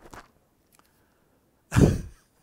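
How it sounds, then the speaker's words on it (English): A single loud, sharp sneeze bursts out close by after a brief quiet pause, preceded by a faint breathy sound. "It's only a sneeze."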